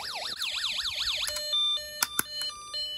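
Snap Circuits electronic alarm wailing in a rapid rising-and-falling siren sweep, then switching to steady beeping tones with a few sharp clicks, close and loud.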